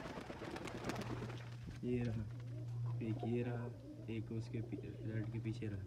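Pigeons coo softly in the background while someone talks nearby, with a steady low hum throughout.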